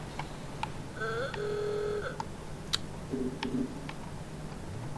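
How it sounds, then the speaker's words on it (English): Two-tone car horn in the racing game Forza Horizon 5, shaped like a mobile phone ringtone, plays one clear sustained burst followed by a softer short figure. Small ticks and clicks from the game sound around it. "that horn ringtone you've got sounds like an old Nokia"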